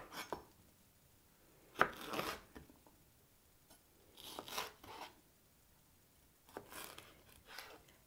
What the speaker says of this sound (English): So just cut the end of the jalapenos off.